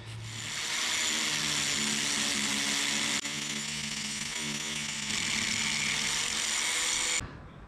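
A grinder with a flap disc works a supercharger part from a Toyota/Lexus V8, a loud, steady high-pitched whine and rasp held close for several seconds before cutting off abruptly.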